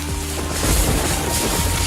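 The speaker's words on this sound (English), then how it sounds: "to a vicious thunderstorm" A deep, rumbling thunder effect with a sustained low roar and rolling booms, heavy and close, with no voices.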